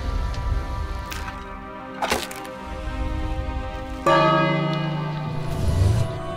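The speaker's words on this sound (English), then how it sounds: "I'm going to ring that bell." A large bell rings out in the adventure game King's Quest, with several loud, resonant strikes whose tones hang and overlap, a sharp clank near the middle and a fuller peal swelling toward the end.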